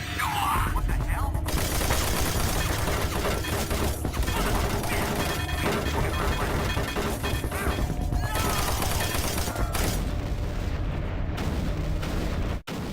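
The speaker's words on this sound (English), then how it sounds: "you follow all the explosions that have been caused by that random bullet" Loud, continuous Doom 3 combat: a dense fusillade of gunfire with heavy explosions and crashing impacts, filling nearly the whole stretch before cutting off abruptly at the end.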